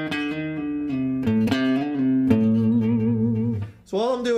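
Electric guitar finishes a minor pentatonic blues lick, descending through sustained and bent notes, close and loud, played alone without speech.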